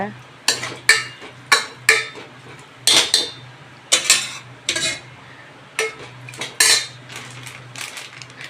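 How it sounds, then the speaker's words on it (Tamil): A spoon scrapes and clanks in a pot as cooked bottle gourd kootu is mixed. About a dozen close, irregular strokes ring out over a low, steady hum. "இப்போ இதை வந்து நல்லா வந்து மிக்ஸ் பண்ணி விட்டுக்கோங்க"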